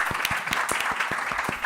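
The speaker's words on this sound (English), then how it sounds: "we would like to give a big applause to Dr." Audience applause for Dr. Steven Heydemann at the close of an academic talk session, a steady wash of many hands clapping with sharp individual claps standing out, fairly near and continuous throughout.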